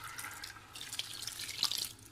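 Water is poured into a cooking pot of aloe vera and minced meat with tomatoes, giving a soft, steady splashing trickle that builds slightly toward the end. The sound is fairly quiet and has no talk over it.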